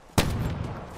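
A shotgun fires once in the battle royale video game Black Ops 4 Blackout, a single loud, sharp blast followed by a short booming tail.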